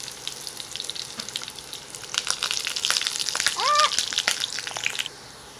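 Lomi ingredient fries in hot oil with a steady close sizzle and crackle, rising louder midway while it is stirred, with a few brief clinks and a faint scrape before the sizzle eases off.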